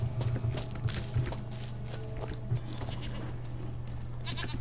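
A goat bleats in The Witcher 3, a few short nasal cries early on amid game ambience and hoof-like clopping, moderately close, with no speech in the clip.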